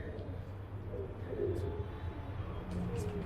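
A young pigeon chick, fallen from its tower, gives a few faint, low coos against a steady background hum.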